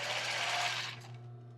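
A sewing machine runs a straight stitch at 2.5 length with a backstitch on tulle and lace, a brief close mechanical whirring burst that stops abruptly, leaving a low steady motor hum.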